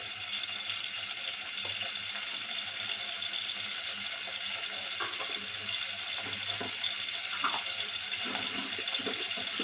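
Cumin and mustard seeds sizzle in hot oil in a home kitchen, a steady, dense hiss with faint crackles and pops, close and continuous throughout with no talking.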